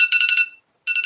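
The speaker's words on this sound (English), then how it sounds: "That sound is my regular alarm." Smartphone timer alarm set by voice assistant, a bright repeating electronic chime in quick pulses, stopping briefly before starting again, close and clear with no talk.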